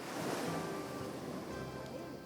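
Sea waves wash onto a shore in a continuous, broad, hissing surge. The sound is soft and steady, with faint swells rising and falling and no voices over it.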